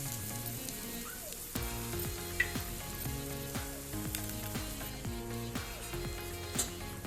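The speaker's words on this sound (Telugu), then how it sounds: "తర్వాత ఈ ఎగ్స్ని కొంచెం ఫ్రై అయ్యేంత వరకు వేయించుకోవాలి" Eggs frying in a pan for egg fried rice, a steady close sizzle with several sharp clinks and scrapes of a utensil against the pan, no voices.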